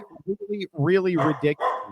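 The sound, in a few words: dog barking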